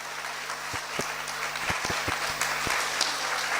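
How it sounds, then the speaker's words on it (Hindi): An audience at a spiritual discourse applauds steadily throughout, a continuous wash of clapping with a few sharper individual claps standing out, fairly close and even in loudness. "अच्छे से बजाओ तालियां।"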